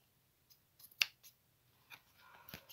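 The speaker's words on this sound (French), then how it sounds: "on va prendre les ciseaux et couper ce qui dépasse sur les côtés" A few quiet, crisp snips of scissors trimming paper edges, spaced irregularly with short pauses between, close by and with no talking.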